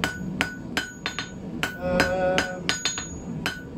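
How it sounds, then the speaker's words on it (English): A blacksmith's hammer strikes hot steel being forged into an eight-sided icicle taper, sharp ringing blows in an uneven rhythm of about a dozen hits, close and loud. "Now just hammering on each 8 sides, trying to get a nice even 8-sided taper ready to round off the"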